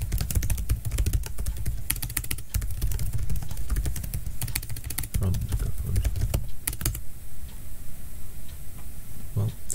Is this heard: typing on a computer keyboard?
yes